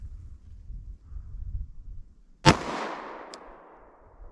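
A single loud, sharp gunshot from a revolver firing PMC Bronze 170 grain ammunition rings out after a stretch of low rumbling background, followed by a long fading echo and a faint metallic click.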